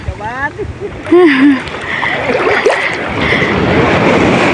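Rough surf and wind roar continuously at close range, with a boat engine rumble and brief voices at the start.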